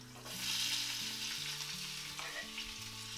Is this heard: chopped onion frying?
yes